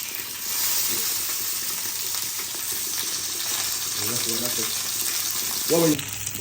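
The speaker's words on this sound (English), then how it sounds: "And then you put your salmon in the pan while you fry." Salmon sizzles steadily in a frying pan, a continuous hiss of frying with a few faint clinks near the end and no one speaking.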